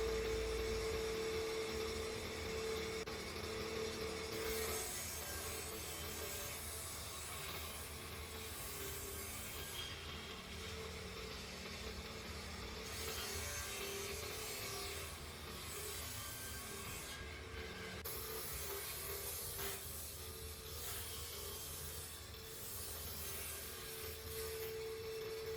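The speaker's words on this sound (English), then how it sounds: "I've set the table saw to 12mm. And I just rip rough pieces out of all the 3-inch stock." A table saw rips rough strips from 3-inch pallet wood stock in a workshop, a continuous grinding whine and rasp of blade through wood that swells and eases with each pass, with no talk over it.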